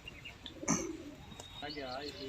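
Soft cooing of kept pigeons on a rooftop loft nearby, with a brief sharper call and a faint flutter, fairly quiet against a low background hum.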